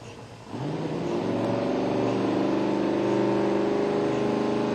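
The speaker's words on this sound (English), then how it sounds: "There goes the smart car chasing the other smart car." A smart car races around a track, its small engine starting up and then droning steadily and loudly at high revs for several seconds without a break.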